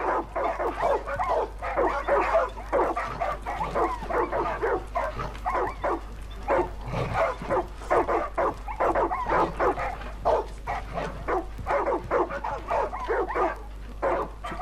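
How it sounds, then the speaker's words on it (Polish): Several dogs bark and yelp in Far Cry 5, a busy, continuous chorus of barks and whimpers close by, with no talk over them. "Co te psy wyprawiają?"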